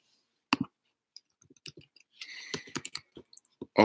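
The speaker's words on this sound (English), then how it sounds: "I'm typing in the New Orleans shooting." Keys on a computer keyboard are tapped while someone searches for a news story, producing sparse, irregular clicks close by with short pauses between bursts.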